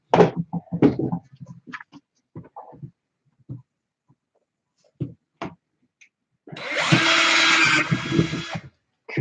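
A power drill whines steadily for about two seconds while drilling into the body of a small fighting robot to fit its neck, preceded by scattered clicks and handling knocks of parts being assembled.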